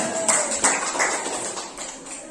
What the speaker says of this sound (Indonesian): Oke, betul sekali. Tepuk tangan.